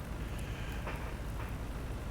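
Steady rain falls in the farming video game Farming Simulator 19, a dense, even hiss with no voices, heard alone and fairly soft.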